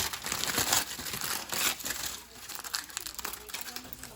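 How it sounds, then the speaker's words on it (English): Tinfoil peeled away from a set plaster rock mold for model mountain terrain, giving a close, steady crinkling and crumpling over about four seconds with a short lull midway. "you can just peel away the tinfoil"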